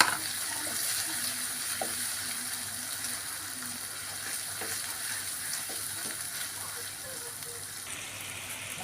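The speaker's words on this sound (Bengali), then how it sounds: "এই যে মশলাটা আমাদের একটু কষানো হয়েছে" Spice paste with ground chilli and green chillies sautés in a pan, giving a low, even sizzle like light rain that holds steady throughout with faint scattered clicks.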